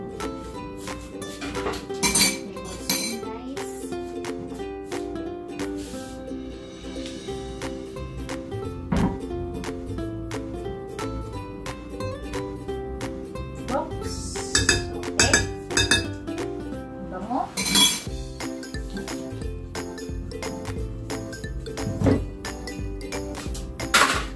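Utensils clinking and tapping against a bowl while banana cake batter is mixed: bright, irregular metallic and glassy clinks repeat steadily throughout, close by and alone.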